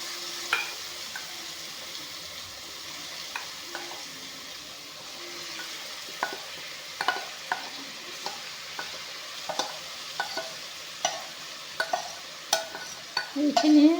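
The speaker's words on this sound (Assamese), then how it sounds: "এইখিনি ধুনীয়াকৈ ভাজি ল'ম।" Spice paste frying over low heat in olive oil in a pan, as amla pickle is cooked, gives a steady soft hiss broken by scattered sharp pops and crackles that grow busier toward the end.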